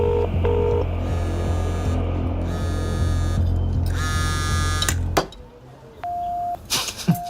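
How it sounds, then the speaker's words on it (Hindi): A telephone being dialed, with a run of steady dialing tones over a low humming background, followed by a quieter stretch and a single sustained tone near the end. "चल फोन लगा उसे"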